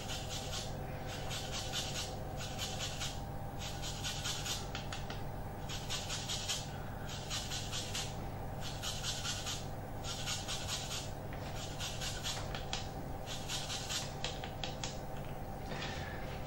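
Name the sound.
zesting lime peel on a grater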